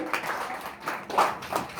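A crowd at a farmers' rights rally bursts into clapping for the farmers, with uneven swells of applause rising and falling over about two seconds.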